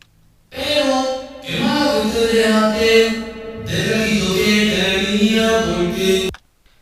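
A drawn-out voice drenched in heavy G-Verb reverb, with a long washy tail that smears each sound into the next, loud and close, then cutting off abruptly.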